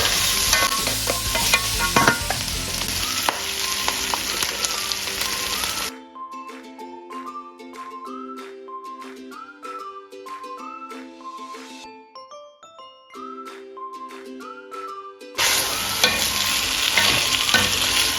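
Pork sautés in a pan for calderetang baboy, making a loud, close sizzle with stirring scrapes that stops for a long musical interlude of chimes before the frying returns at the end.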